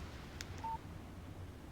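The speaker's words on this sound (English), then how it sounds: "Text message from Barry." A single short electronic beep from a text message notification in the Alan Wake video game sounds faintly once over a low, hushed background.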